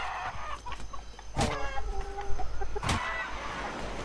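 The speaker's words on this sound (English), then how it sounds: "I killed a chicken!" Chickens cluck in the survival video game Atlas, short close clucks over a steady game ambience, broken by two sharp bursts of noise.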